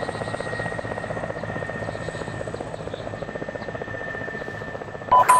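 Helicopter in an Arma video game, a steady thumping rotor beat close by and loud throughout, with a sharp sound cutting in at the very end.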